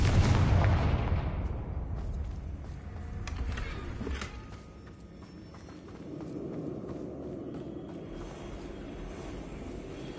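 Confringo spell explosion in Hogwarts Legacy, a loud booming blast at the start that rolls off into a long, fading rumble, with a second swell of low rumbling later on, no voices.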